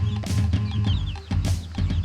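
Chicks clucking in a chicken yard, a run of short, close peeping and clucking calls in quick irregular bursts, fairly loud with no talking over them.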